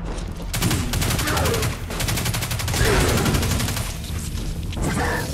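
Sustained rapid weapon fire from a gun in the video game Destiny 2, a dense rattling burst of automatic shots that runs loud and close almost without a break.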